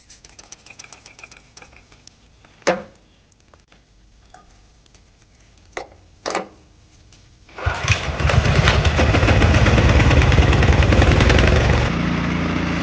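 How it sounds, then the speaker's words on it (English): A Troy-Bilt 30-inch two-stage snow blower engine starts up after a few scattered clicks and knocks, then settles into a loud, steady running roar close by. "We're talking 30-inch. We're talking 2-stage, throwing the snow mile."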